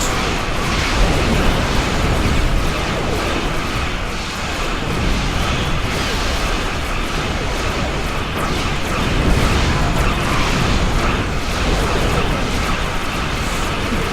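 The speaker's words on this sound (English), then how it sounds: "Oh, there goes a heavy plasma torpedo, and boom." A heavy plasma torpedo blasts in a space battle against a dreadnought in Star Trek Online, a dense, loud, sustained roar of explosions and rumbling that fills the whole stretch with no clear pauses.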